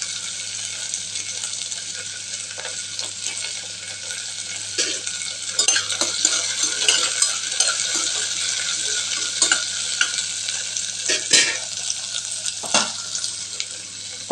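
Curry leaves sizzle and crackle in hot oil in a pan, with steady broadband frying hiss and intermittent scraping stirs and clinks close up, no voices.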